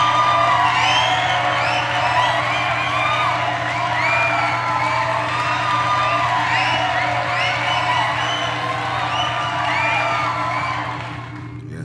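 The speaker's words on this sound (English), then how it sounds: "Round of applause for that." A congregation at a religious study session cheers and whoops over a sustained crowd roar, with yells rising and falling throughout and no clear separate speech, tapering slightly at the end.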